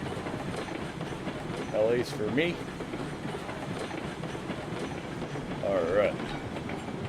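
Train rolling on rails in the game RailRoads Online, a steady close rumble with clattering wheels and a few brief metallic squeals; someone talks briefly over it.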